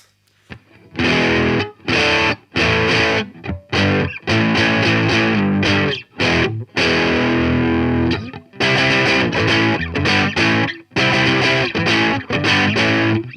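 Loud overdriven electric guitar playing chunky chords and riffs in bursts with brief gaps, gritty and saturated, no voices.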